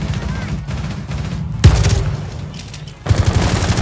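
Rainbow Six Siege gunfire: two sharp, loud bursts of close automatic fire about a second and a half apart, over a busy background of rumbling game noise.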